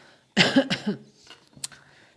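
A short, close double cough followed by a faint throat sound, with quiet around it.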